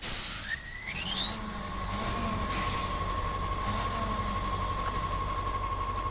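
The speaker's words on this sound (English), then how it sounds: "Starting engine." A KrAZ 260 fire truck engine in the game Snowrunner whines upward in pitch as it starts, then settles into a loud, steady droning hum.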